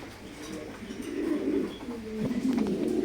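Fancy pigeons cooing at a pigeon farm in Durgapur, Rajshahi, a steady low murmur of overlapping coos throughout, moderately close and rising slightly in the second half.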